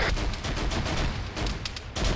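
Continuous battlefield gunfire from the military game ArmA 3, a dense, steady stream of overlapping shots and bursts with no pauses, loud and sustained throughout.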